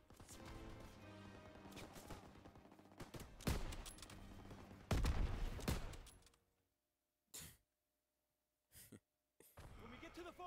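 Rattling MG machine-gun fire from a haymow position in the Call of Duty WWII campaign, sustained bursts and loud impacts that drop away into near silence, followed by a few short isolated noises and a voice.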